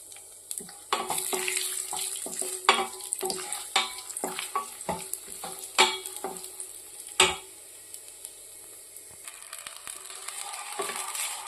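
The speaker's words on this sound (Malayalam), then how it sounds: "നെയ്യ് ചൂടാകുമ്പോൾ നട്ട്സ് വറുത്ത് മാറ്റി വയ്ക്കുക." Nuts frying in hot ghee in a pan for papaya halwa, a soft sizzle under repeated clinking and scraping taps of a spoon against the pan, close and irregular.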